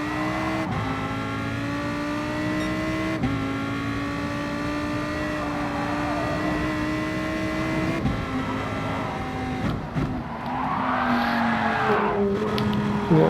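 A race car in the Gran Turismo video game holds a loud, steady engine drone with shifting pitch, then breaks into a skid and tire squeal under braking near the end.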